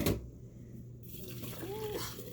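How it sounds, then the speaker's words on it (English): Boiling hot water poured into a kitchen sink for steeping herbal tea: a steady, splashy liquid rush that runs the whole way through at moderate level, with a brief higher gurgle near the end. "I'm just going to be over the sink right here, and I'm just going to pour the water over here."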